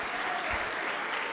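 A church congregation claps in praise during a Portuguese-language worship service, a steady, dense wash of many hands filling the whole short moment.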